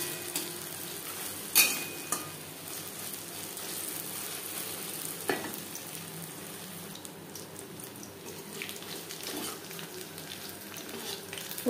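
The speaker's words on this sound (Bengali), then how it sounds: "হাই ফ্লেমে তেল আমি গরম করে নিয়েছি। ভাজবো মিডিয়াম ফ্লেমে।" Chicken pieces fry in hot oil over a medium flame for a crispy chicken fry. A close, steady sizzle crackles throughout, with a few sharp clinks and pops near the start.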